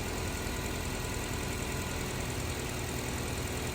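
Car engine idling during a charging system test, a faint steady low hum with no change in pace throughout, heard alone.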